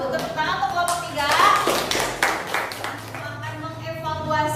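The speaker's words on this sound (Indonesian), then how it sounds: "Tepuk tangan untuk kelompok 3" Applause for a student group in a classroom, scattered hand claps and taps mixed with voices talking over them.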